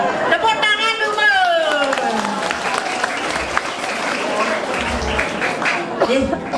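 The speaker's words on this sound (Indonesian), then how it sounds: "Tepuk tangan dulu." An audience at a Balinese comedy show bursts into sustained clapping, a dense wash of applause from a sizable crowd that stays loud throughout, with a voice speaking over it at the start.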